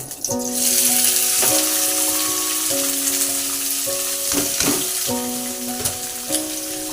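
Carrots and beans sizzle steadily in a pan for fried rice, a loud continuous hiss with occasional stirring scrapes, under background music.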